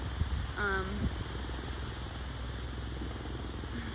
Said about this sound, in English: Sorry if y'all can hear the helicopter.